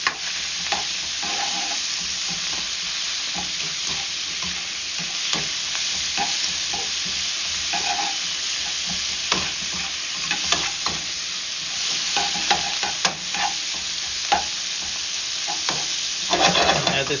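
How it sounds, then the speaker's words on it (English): Squirrel meat and wild mushrooms with garlic, lemongrass and ground dry chili stirred in a frying pan: steady close sizzle with repeated scraping and clacking stir strokes, no voices. "You just get to stir it."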